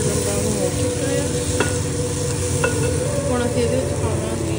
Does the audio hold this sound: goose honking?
no